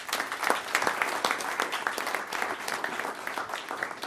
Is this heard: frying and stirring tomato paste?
no